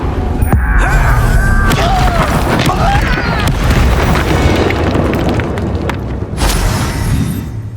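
A Confringo spell blast in Hogwarts Legacy erupts within a dense, rumbling combat mix, with a sharp crack at the start and another burst toward the end, and a voice heard alongside.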